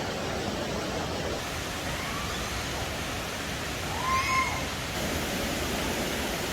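A waterfall in a Songkhla nature reserve pours steadily as an even, distant hiss of falling water, with a faint cat-like cry rising briefly over it.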